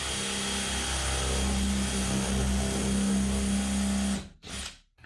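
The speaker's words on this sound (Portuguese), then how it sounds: "eu vou usar uma broca chata para poder fazer o mergulho da peça" A power drill with a flat spade bit boring into a workpiece, a steady loud whirring drone held for about four seconds before cutting off and briefly revving again.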